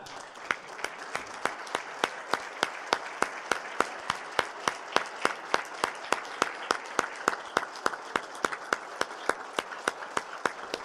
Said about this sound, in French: on se lève et on porte une chaleureuse main d'applaudissement pour ces madames-là